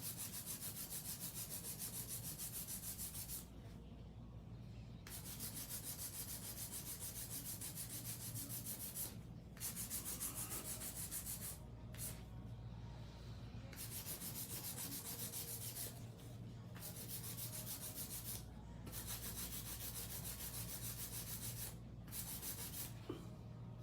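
Steady, continuous scraping of a hand file shaping long acrylic nails at a nail salon, close and even with brief pauses between strokes, no talking.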